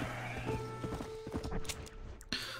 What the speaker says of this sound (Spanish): tengo el unicornio, que es el último caballo del juego